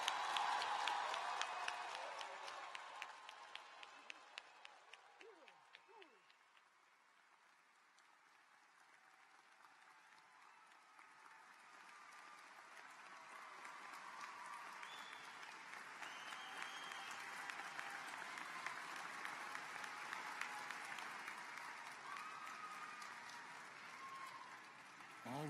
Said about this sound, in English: how about a huge, big round of applause for all of the graduates?